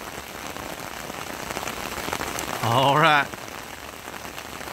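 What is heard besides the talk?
rain falling at a river boat ramp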